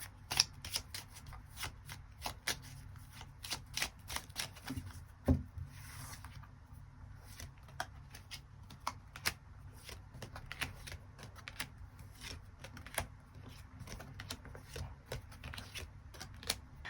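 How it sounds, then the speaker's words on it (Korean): Tarot cards being shuffled by hand for a reading, a steady run of crisp riffling flicks and soft card slaps, close and continuous with brief pauses. "추가 카드 뽑아보도록 하겠습니다"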